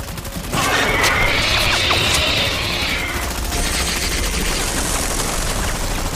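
Gunfire in an action film set in the jungle: a sustained, dense burst of crackling shots and impacts runs loud and continuous for several seconds, with no talk over it.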